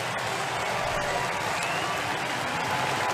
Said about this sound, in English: It's a good day's work for Taylor Jungmann, and the crowd recognizes it.